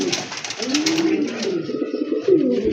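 Pigeons kept for sale coo up close, loud rolling calls repeating back to back, with a short scuffling pause before another deep coo rises near the end.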